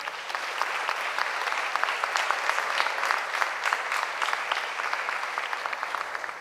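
Sustained audience applause at the closing ceremony of an international ballet academies meeting, dense steady clapping from a large crowd that fills the whole stretch without pause.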